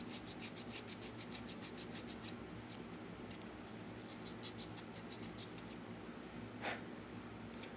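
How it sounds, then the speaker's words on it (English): Fine sandpaper rubs against the worn contacts of an antique Cutler-Hammer switch in quick, faint, rhythmic scratching strokes, close up and slowing toward the end. "clean the contacts. A little piece of fine sandpaper."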